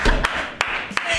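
A few sharp claps ring out in a TV studio, sparse and uneven, with crowd noise and talk underneath.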